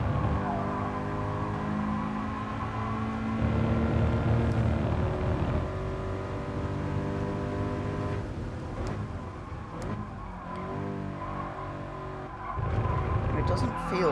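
A Toyota GR86 in Gran Turismo Sport slides through corners, its engine droning steadily while tires squeal in recurring stretches, with someone talking over the driving throughout.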